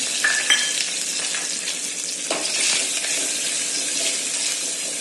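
Chilies, curry leaves and asafoetida hit hot oil for tempering, producing a loud, close, sustained crackling sizzle with some stirring throughout.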